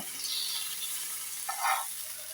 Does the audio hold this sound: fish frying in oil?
yes